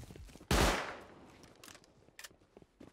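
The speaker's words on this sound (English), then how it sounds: "Warning shots." Several warning gunshots ring out in an online battle-royale shooter match, opening with one loud, sharp blast and its decaying echo, then a few fainter distant pops scattered afterward.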